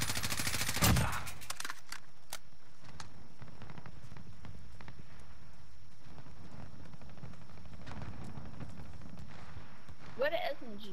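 SMG gunfire in the Call of Duty: Modern Warfare video game: one loud, close burst of rapid shots, then scattered fainter shots under an ongoing voice chat.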